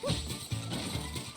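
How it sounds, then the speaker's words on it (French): Dogs barking in the Zelda: Echoes of Wisdom video game, a few short yapping barks in quick bursts at moderate level, with other game sounds around them. "Oh les chiens."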